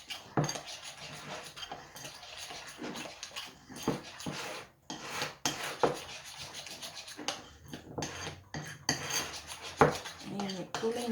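Rainbow puto cheese batter stirred in a bowl, a busy run of scraping, clinking and rubbing strokes that rise and fall unevenly over several seconds, with a few sharper knocks against the bowl.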